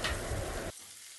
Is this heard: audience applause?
no